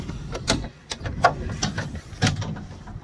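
A new-style cab door with a new lock on a Kirovets K-701 tractor is handled up close, giving a series of sharp clicks, knocks and latch clunks with quiet gaps between them and no talking.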